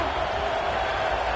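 Stadium crowd in a College Football video game roaring steadily on a big third down, a dense, sustained wash of cheering with no distinct voices standing out.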